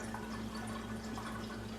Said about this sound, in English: we just simply pour it in here and we strain out anything